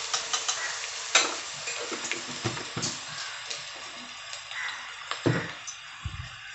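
Garlic, ginger and green chilli paste sautéing in a pan for homemade wheat noodles: a steady soft sizzle broken by repeated scraping stirs and spoon knocks, close by, with no talk.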